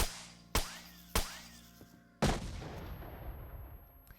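Four sharp video game explosions in Stalker: Call of Pripyat, three evenly spaced then a heavier one, each followed by a rumbling decay.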